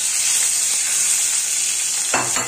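Vermicelli noodles frying in oil in a pan for yellow lentil soup, a steady close sizzle and hiss running throughout, with a brief stirring scrape near the end.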